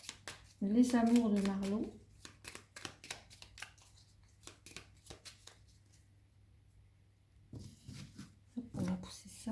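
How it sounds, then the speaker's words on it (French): Tarot cards are shuffled and drawn at close range in a soft series of riffling and flicking sounds, with a voice talking and briefly singing over them. "je vais venir tirer une carte"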